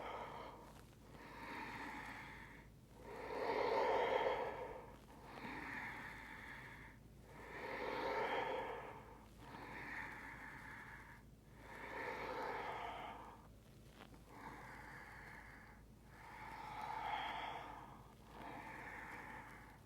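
Slow, deliberate breaths during a hatha yoga class, long airy inhales and exhales swelling and fading in a steady cycle of about four to five seconds, close and soft with no talking.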